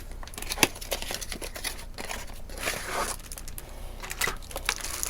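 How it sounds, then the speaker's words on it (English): Crackling plastic packaging on craft supplies being pulled and torn open at close range, with irregular crinkles and sharp rustling bursts and no talking. "this packaging is very noisy too"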